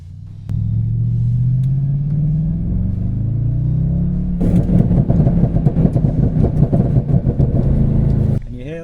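A rebuilt V8 car engine idles with a low drone, then revs hard past 4,000 RPM in second gear, turning into a loud, choppy pulsing roar nearby before cutting off.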